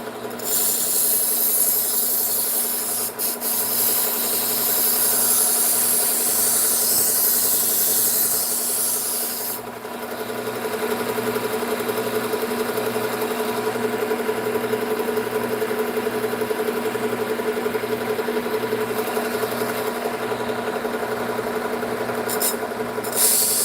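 A knife blade ground on a 600 grit sanding belt, a steady abrasive rasp over a constant motor hum, loud and close, running without pause for the whole stretch with a brief dip in the grinding partway through.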